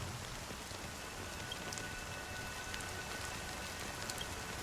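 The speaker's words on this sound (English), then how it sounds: "But it's still raining." Steady rain in the video game Honkai: Star Rail falls evenly throughout, a dense hiss of drops on surfaces with occasional brighter patters, no voices.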